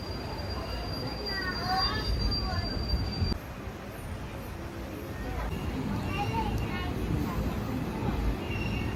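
A train pulls out of an old railway station near a bridge on the Bhadravati route in the early morning, with a steady rumble, rattling carriages and brief wheel squeals; voices talk over it throughout.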